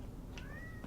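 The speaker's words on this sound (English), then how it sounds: "He's outside the door crying. You hear him meowing?" A single cat meows from outside a door, one short, rising and slightly drawn-out cry, fairly faint and muffled against a quiet background.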